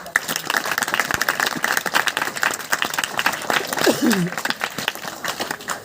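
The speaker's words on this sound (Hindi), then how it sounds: "एक बार जोरदार तालियों से" An audience at an education mission talk claps loudly and steadily throughout, a dense sustained burst of applause with a brief voice cutting in near the middle.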